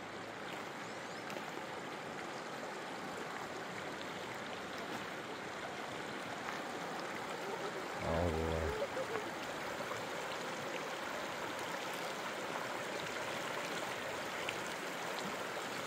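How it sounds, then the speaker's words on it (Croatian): A small stream splitting off from a fast, rushing river, its steady broadband water roar continuous and close throughout, with a brief low thump or splash near the middle. "odvaja se ova rječica malo ovdje, a tamo je rijeka koja piči"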